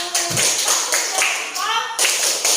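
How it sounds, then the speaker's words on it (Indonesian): Students in a classroom clap their hands together in quick, uneven bursts, close and fairly loud, with voices mixed in. "Tepuk tangan dulu."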